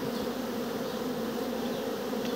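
Honey bees buzz at an open beehive during queen rearing, a continuous dense hum close by, steady and unbroken.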